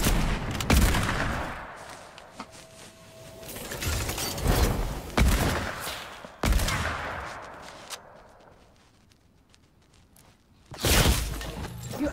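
Sharp, isolated gunshots in a video game trick-shot session ring out a few seconds apart, each loud crack followed by a decaying tail and quieter stretches in between.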